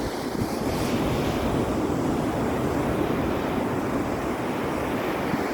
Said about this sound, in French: c'est beau les vagues, hein?